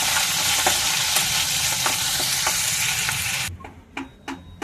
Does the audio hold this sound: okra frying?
yes